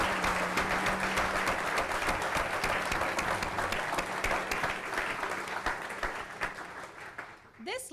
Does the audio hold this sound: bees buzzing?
no